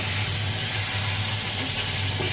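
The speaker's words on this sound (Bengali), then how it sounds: "আমার আলুটা অনেকটা ভাজা ভাজা হয়ে গেছে" Potatoes frying in hot oil with spices in a pan, a loud, dense, continuous sizzle and hiss heard up close, no voices.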